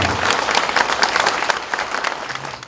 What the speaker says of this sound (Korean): 여러분들 한번 박수를 부탁드리겠습니다